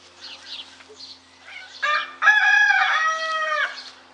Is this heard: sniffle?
no